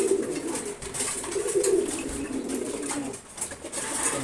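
Pigeons coo softly and repeatedly close by, their low throaty calls rolling in overlapping phrases against a quiet background.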